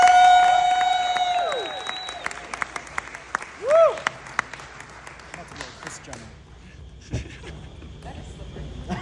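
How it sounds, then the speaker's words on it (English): Applause rolls through a gala audience, faint and scattered, with a few whoops and scattered claps under a loud whistle-like tone near the start. "Please make some noise for Jinan Matari."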